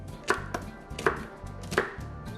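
Red chili pepper chopped with a knife on a board for cabbage water kimchi: three distinct, fairly crisp knocks spaced evenly with softer cuts between, close and moderately quiet, no talking.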